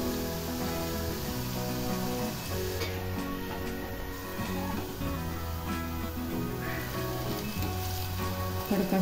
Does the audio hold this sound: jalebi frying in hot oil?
yes